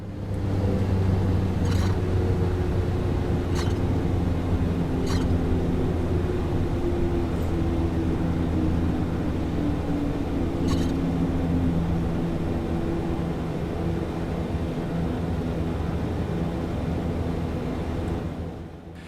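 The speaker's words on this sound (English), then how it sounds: "the sound of bumps and grooves in the runway gets louder the harder we press on the brakes" Rumbling roll of a Black Square Starship in Microsoft Flight Simulator taxiing down a grooved runway, a steady low engine drone with a few sharp bumps from the nose gear scattered through it.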